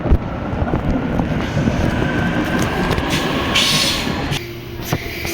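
A passenger train bound for São Paulo rolls by close and loud, a steady rumble and rattle of wagons with faint clicking of wheels over the rails.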